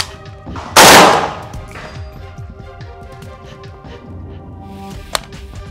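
A rifle set to single-fire lets off one loud, close shot with a long broadband blast, followed by quiet background with a faint sharp click near the end.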